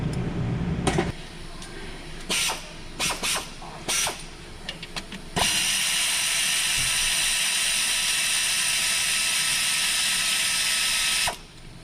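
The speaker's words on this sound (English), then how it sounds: "I'm gonna remove this starter bolt here." Ratchet wrench removing a starter bolt on a Hyundai Tucson: several short clicking ratchet bursts, then one long continuous close whirring run of a power ratchet that stops abruptly.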